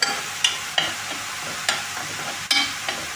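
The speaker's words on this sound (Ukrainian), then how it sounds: "І тепер перемішуючи, буду смажити" A spoon scrapes and stirs onions and flour in a pan in several separate strokes over a quiet sizzle of frying, close up with no talking.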